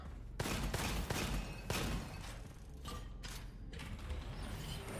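Rapid bursts of explosions and gunfire in the video game Gunfire Reborn pile up in a dense, continuous barrage, with sharp blasts punching through a constant rumbling roar.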